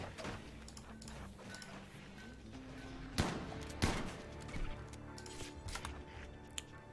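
A RimWorld colonist fires a gun at a squirrel, with a few sharp, spaced shots standing out from quiet game ambience and faint music.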